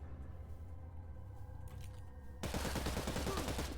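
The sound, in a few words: gunshots in video game Cyber Knights: Flashpoint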